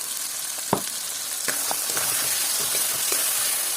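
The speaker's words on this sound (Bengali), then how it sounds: "এই দেখো আমার সেই পেস্ট যা মশলা করা আছে এই পেস্টটা দিয়ে দিলাম" Spice paste hits a hot pan while cooking coconut chicken, giving a close, steady sizzle and frying hiss with a few sharp clicks and stirring scrapes.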